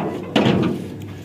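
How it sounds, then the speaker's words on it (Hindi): A door swung shut at home, one solid thud with a short rattle, close by, then a quiet hum. "दरवाजा बंद कर दूं।"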